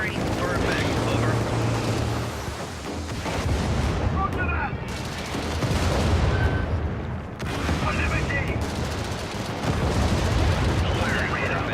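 Artillery fire in a video game: repeated heavy booms and rumbling volleys roll in waves under a continuous bed of explosions and gunfire, with voices in the background.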